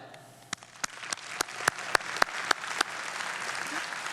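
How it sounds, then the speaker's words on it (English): Audience applause at a franchise convention keynote begins as a few scattered, sharp claps, then builds into steady clapping from a crowd in a large hall, with no one speaking. "Please, a round of applause for Deb."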